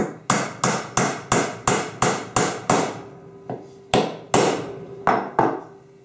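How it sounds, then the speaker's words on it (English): Hammer blows drive a nail into the top bar of a wooden Langstroth beehive frame: about eight sharp, evenly spaced strikes in quick succession, a short pause, then four more spaced-out knocks, close and loud. "Take another 1 inch or 1 1/4 inch nail and nail on the top bar."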